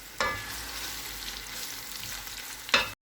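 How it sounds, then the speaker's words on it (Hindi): Onions fry in hot oil for chicken korma: a continuous close sizzle with stirring, a louder burst of crackling at the start and another near the end before it cuts off. "प्याज को फ्राई कर लेंगे जब तक ये लाइट गोल्डन ब्राउन नहीं हो जाते।"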